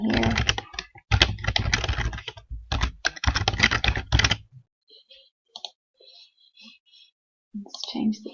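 Close, rapid keystrokes on a computer keyboard as an email address is entered into a web form, dense bursts of clicking for about four seconds, then sparse quieter taps and a brief noise at the end.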